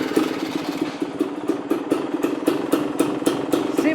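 A KTM 350 motorcycle with a Lectron carburetor idles close by in a steady, even putter of quick regular firing pulses with no voices over it.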